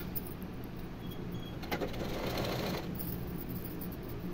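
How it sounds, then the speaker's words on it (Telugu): A sewing machine stitching blouse cloth, its steady close whirr swelling into a louder run of stitching partway through, with no talking. "క్లాత్ని అడ్జస్ట్ చేసుకుంటూ కుట్టు అనేది వేసేసుకోవాలి"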